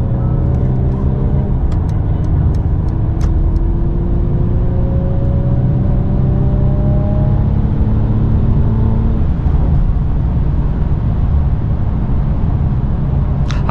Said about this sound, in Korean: 차가 안 오는 안에서 한번 쫙 밟아 볼게요.